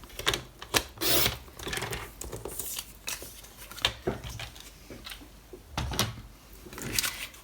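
A paper flap is cut by hand for a scrapbook pouch mini-album, with close, quiet snips and rustling scrapes of paper coming in irregular bursts.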